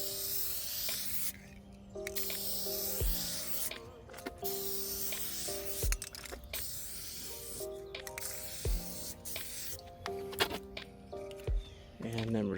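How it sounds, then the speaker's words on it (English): Spray gun applying clear coating to a 2014 Mazda CX-5 headlight lens from about four inches, several short hissing bursts separated by pauses, with a faint tonal hum under the spray. "I'm going to spray about 4 inches from the lens on an even contour."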